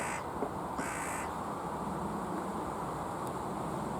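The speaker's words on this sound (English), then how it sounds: "all them bloody crows" Crows caw from a tree at an allotment, two loud harsh calls close together near the start, then fainter cawing over a steady outdoor hiss.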